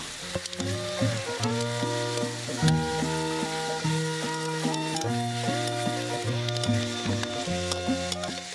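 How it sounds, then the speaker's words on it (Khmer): Chicken pieces sizzle and crackle as they are stir-fried in a pan, with occasional stirring. The frying stays close and steady under prominent background music, and no one speaks. "ចាក់សាច់មាន់ចូលរួចឆាឲ្យវាចូលជាតិជាមួយនឹងសាច់មាន់"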